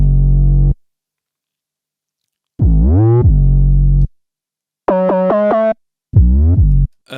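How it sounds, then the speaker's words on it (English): Deep 808 bass notes ring out in separate loud bursts with gaps of silence between them, some gliding in pitch with a slide effect, one buzzing, distorted-sounding chord-like stab among them. "It's called slide, so it goes like ooh, and this is the 808."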